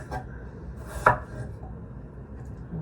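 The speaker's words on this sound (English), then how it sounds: "You know how to cut potatoes" A knife slicing through raw potatoes for French fries on a cutting board: one crisp, close chop stands out among a couple of fainter cuts in a quiet kitchen.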